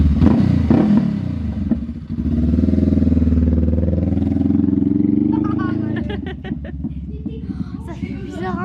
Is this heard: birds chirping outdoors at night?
no